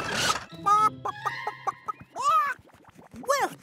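A cartoon chicken clucks and squawks in a series of sharp, bright, close calls with rising and falling pitch, alone without talk.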